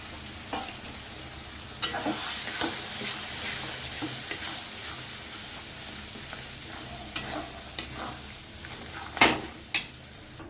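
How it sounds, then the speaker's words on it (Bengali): Egg added to a pan of spices and chili sauce, with soft sizzling, intermittent stirring and scraping, and occasional clinks of a utensil against the pan, heard close up with no talking. "এবার দিয়ে দেবো আমি ডিমটাকে যেভাবে করে রেখেছি।"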